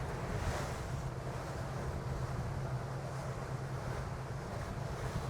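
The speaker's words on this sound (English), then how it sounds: "We're getting a lot of waves and spray here." Rough sea waves and spray on a commercial stone crabbing boat, a steady wash of surf and wind buffeting the microphone, with the low hum of the vessel underneath and no talk.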